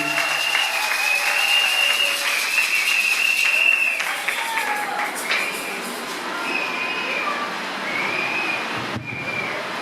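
Guests at a religious wedding applauding and cheering to honor the officiating man of God, sustained clapping with whistles and shouts throughout, easing slightly toward the end.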